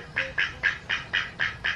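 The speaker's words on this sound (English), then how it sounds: "I am so sorry about my annoying little duck." A pet duck in a barn quacks seven times in a steady, evenly spaced rhythm, each call loud, nasal and close by.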